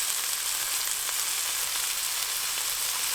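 A beef burger patty fries in a pan, giving a loud, close, steady sizzle that crackles without a break and has no talk over it.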